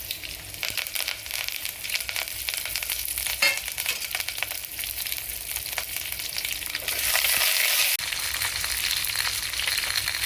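Garlic, green chillies and curry leaves frying in oil on low flame for tomato rasam, a steady close sizzle with crackling spits that briefly swell louder, no voices.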